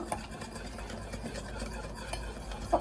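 Quick, steady stirring and scraping of a utensil in a bowl of cake batter, a soft continuous swishing with a couple of louder clinks.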